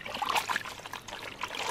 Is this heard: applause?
no